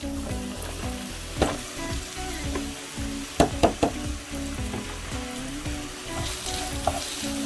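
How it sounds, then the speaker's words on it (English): Chopped onion sizzles and fries in hot oil in a pan, a steady bright crackle with a few sharp knocks and stirring clatters from a utensil partway through. "I'm going to add in the onion."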